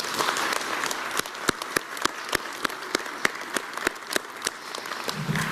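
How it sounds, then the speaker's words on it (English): A civic audience at a city's State of the City address claps for municipal departments: a steady wash of applause with a few sharp, louder individual claps standing out at a regular pace, close and lively throughout. "Please join me in a round of applause for these hardworking city departments."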